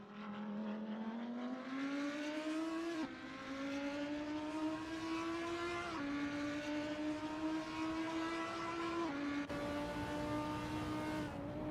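GT3 race car engines at the Spa circuit howl continuously and loudly, pitch climbing steadily through each gear before dropping at the shifts, with no voices over the sustained roar.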